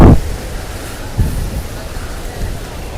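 Rain falls near the Sutlej river, a soft steady hiss of drops with a few low rumbling thuds from wind or handling, fairly close and continuous throughout.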